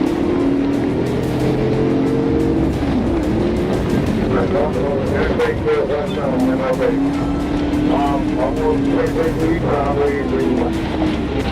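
A Dodge speeding recklessly in a police chase on Martin Luther King Jr. Drive, its engine roaring steadily and close with rising and falling revs, under continuous narration.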